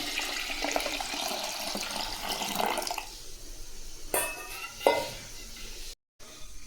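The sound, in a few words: water being poured in to cook rice and dal pongal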